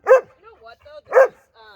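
A dog gives two sharp, close barks with soft whining and whimpering sounds between them.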